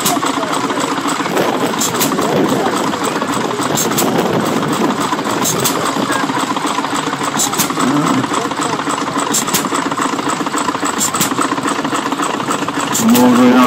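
A vintage engine runs steadily at an outdoor rally with a continuous mid-pitched chugging drone, and a faint tapping rhythm is heard above it throughout.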